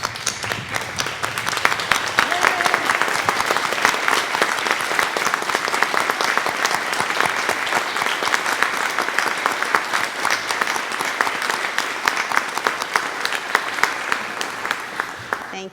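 An audience at a county Teacher of the Year ceremony stands and applauds the teachers, dense sustained clapping from a large crowd filling the room steadily for the whole stretch.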